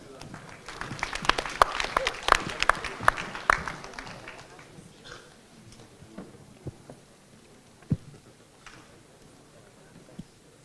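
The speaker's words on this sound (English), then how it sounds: "A round of applause, please." Audience at a business competition applauding, with crisp, fairly close individual claps for a few seconds that thin out into scattered claps and faint room noise.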